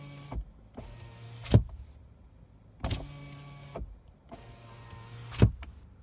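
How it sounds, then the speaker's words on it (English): A Chevy Bolt's electric power window motor whirs in several separate runs, each a few seconds long and ending in a sharp thunk as the glass stops, close and clear with no talk. "When you roll down the window on the driver's side or the passenger side"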